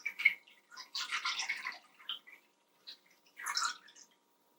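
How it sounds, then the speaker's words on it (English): A quart of fresh cream from a local creamery pours into a 9x9 baking pan in a few soft, wet splashing bursts separated by quiet pauses, close up with no talking. "I'm going to pour it into this 9x9 pan."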